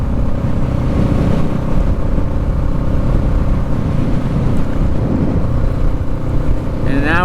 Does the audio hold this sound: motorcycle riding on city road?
yes